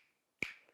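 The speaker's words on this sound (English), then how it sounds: "I'm snapping my fingers." One crisp, close finger snap cracks sharply out of near silence and fades quickly into a faint tail.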